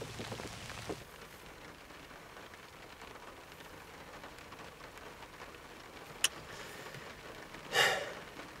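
Steady, soft rain patters outdoors during a turkey hunt as a continuous hiss, with a brief sharp click and a short rustling burst near the end.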